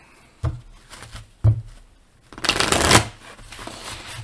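Oracle cards are handled and shuffled up close: two sharp taps, then a fast riffling burst, with lighter card rustles after.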